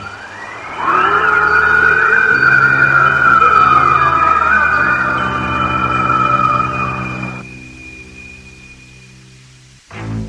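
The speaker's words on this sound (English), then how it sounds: "It is the voice of the Yeti." A long wailing cry, presented as the Yeti's voice echoing through the Himalayan mountains, holds a loud sustained siren-like tone for about six seconds before cutting off, with a faint hum behind it.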